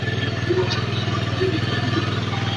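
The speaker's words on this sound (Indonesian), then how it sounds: "motor sudah menyala dan ini RPM juga terlalu tinggi ini ya" A motorcycle engine with high fuel consumption runs at an RPM that is too high, a steady, rapid, evenly pulsing idle heard close and alone throughout.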